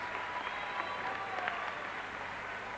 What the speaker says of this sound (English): the captain departs to a standing ovation from this small crowd in here tonight